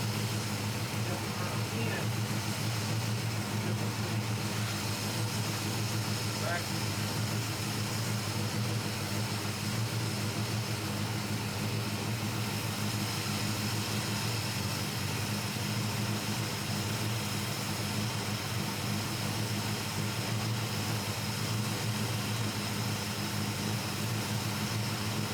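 A carbureted engine running steadily at idle while the carburetor is adjusted, a constant droning hum with no change in pitch or level throughout.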